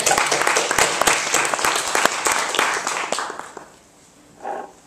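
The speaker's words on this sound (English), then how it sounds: "please give a round of applause for John B." An audience at a letters and arts event claps for John B. Young: dense, loud applause that tapers off after about three seconds, leaving a brief quiet before a short final burst.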